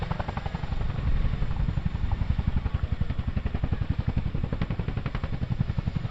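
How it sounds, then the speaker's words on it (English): A Chinook helicopter manoeuvring forward and down during a role demo at the Cosford Airshow, its twin rotors giving a loud, rapid, steady thudding beat over a continuous engine drone. "Coops will manoeuvre the aircraft forward and down away from the load to allow the troops to disembark"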